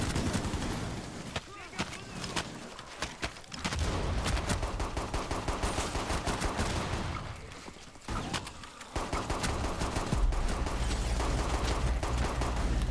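Rapid gunfire and bursts of shooting in the Rainbow Six Siege Outbreak mode, loud and sustained with brief lulls, set against busy game sounds.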